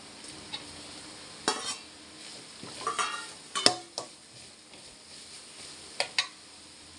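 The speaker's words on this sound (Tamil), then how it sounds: "இப்போ முட்டை சேர்த்துக்கலாம்" Egg added to fried rice frying in a pan, with a soft steady sizzle and scattered stirring scrapes and clinks of a utensil against the pan, close by with no talking.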